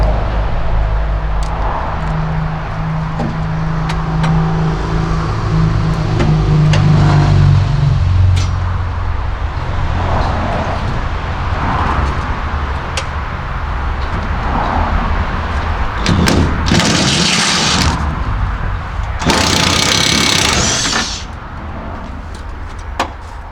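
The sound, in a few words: impact gun driving a nut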